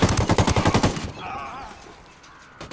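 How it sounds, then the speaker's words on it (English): Rapid automatic gunfire in the video game Ghost Recon Wildlands, a loud burst of about a dozen close shots lasting a second, then a fading echoing tail. "Opening fire on these fuckers."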